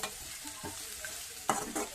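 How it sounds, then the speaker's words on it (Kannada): Eggs frying in a pan for egg rice: a quiet background sizzle with a few soft stirring scrapes and a louder clatter near the end, no speech. "ಮೊಟ್ಟೆ ಹಾಕೊಂತಿದೀವಿ"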